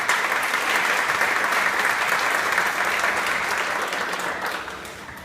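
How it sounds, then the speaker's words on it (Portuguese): Warm applause from a church congregation welcoming a speaker at a service, dense steady clapping from the whole room that tapers off gently at the end. "Salva de palmas, né?"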